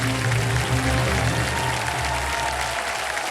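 Steady, dense clapping from a large studio audience at the Kaun Banega Crorepati game show, loud and continuous throughout with no pauses.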